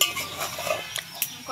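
Potatoes stirred in a cooking pan, a close scraping of a utensil against the pan over a soft sizzle, with a few brief clanks.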